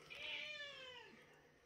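A frightened kitten meows once in a long, falling, wavering cry, close and fairly quiet, with no talking over it.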